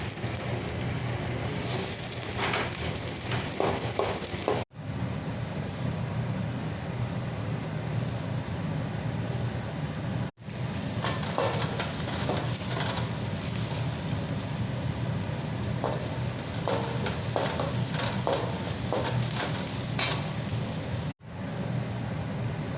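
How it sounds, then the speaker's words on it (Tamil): Mustard seeds and sliced big onions fry in hot oil in a kadai for sambar, giving a continuous dense sizzle and crackle close by, broken by two brief pauses. "வடச்சட்டியில் எண்ணெய் காஞ்சதும் கடுகு போட்டுக்கலாம். பெரிய வெங்காயம் போட்டுக்கலாம்."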